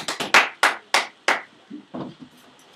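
A handful of close, sharp hand claps ring out in a classroom during a debate, about eight separate claps in an uneven rhythm that thin out and fade, with no speech.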